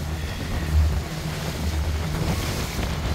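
Waves slap and wash against a small boat out on open water, blending into constant wind buffeting the microphone, with one heavier thump early on and no voices.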